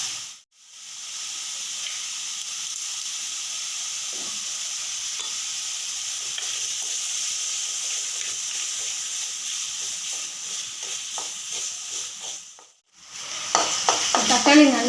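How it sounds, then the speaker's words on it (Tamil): Chopped tomatoes sauté in a hot pan for mushroom kulambu, giving a steady close sizzle and hiss with occasional stirring scrapes, broken by two brief gaps. "2 மீடியம் சைஸ் தக்காளியை கட் பண்ணி வச்சுருக்கேன், அதையும் சேர்த்துட்டு நல்லா வதக்கிக்கோங்க."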